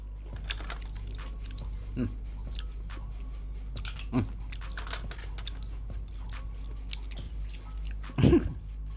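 Steamed mussels are chewed close up, with a series of soft, wet bites and mouth clicks spaced a few seconds apart and a louder burst near the end, over a low hum with faint voices in the background.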